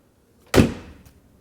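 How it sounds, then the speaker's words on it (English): A Mercedes W211 car door with freshly lubricated hinges swings shut in a single solid thud that decays quickly, heard alone and close. "we have a much easier closing door now"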